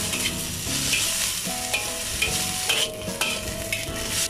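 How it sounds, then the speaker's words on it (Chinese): Mushrooms, mixed vegetables and dried tofu stir-fried in a wok give a steady loud sizzle, with repeated scraping strokes of the spatula across the metal throughout. "炒匀下佢。"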